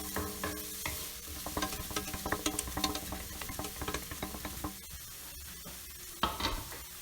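Chopped carrot, beans and capsicum sauté with spring onion in a hot pan, a lively crackling sizzle broken by repeated scraping and stirring clatter, with a final loud stir near the end.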